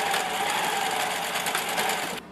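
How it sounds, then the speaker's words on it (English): A sewing machine stitches in the ditch along elastic on a homemade swimsuit, running fast and steady and close by for about two seconds before stopping abruptly. "now you want to stitch in the ditch to stop the elastic from being pulled from this upper section"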